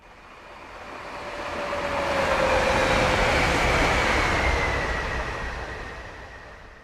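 An oncoming train in Train Sim World 5 passes by, a steady rumbling roar that swells to a peak mid-pass and fades away, with no talking.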